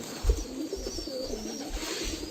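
Pigeons coo softly at feeding time in a long loft room, low murmuring calls under a faint steady hiss.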